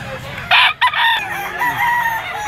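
A yellow-legged gamecock stag at a Sunday rooster market gives a loud, close cock-a-doodle-doo crow that trails off into a drawn-out, wavering call.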